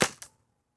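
One crisp pop from a Daisy 74 CO2-powered BB gun, close and loud, with a quick second snap a fraction later before the sound cuts to silence.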